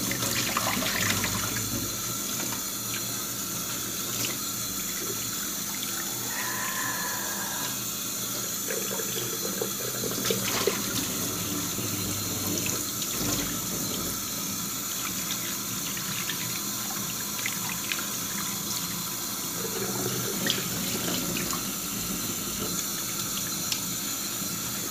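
Tap water runs steadily into a sink while chicken gizzards are rinsed, a continuous close splashing flow with small irregular spatters and clatter over the top.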